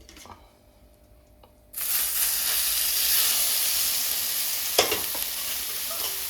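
Quiet at first, then a loud sizzle erupts as noodle omelette batter hits a hot griddle and keeps hissing steadily, with one brief clink.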